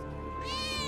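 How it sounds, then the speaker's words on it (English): A single short cat meow from the video game Final Fantasy VII Remake, clear and close, rising in pitch over a steady background hum. "You heard a meow meow?"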